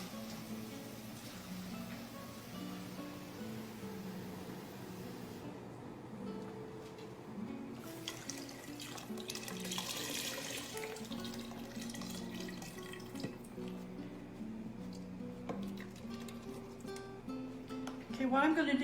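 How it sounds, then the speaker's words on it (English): Tap water runs into a beef broth carton in a home kitchen, a soft, steady rush of filling and splashing that continues for the whole stretch, fairly faint and close. "I always fill my carton up with it at least halfway full of water"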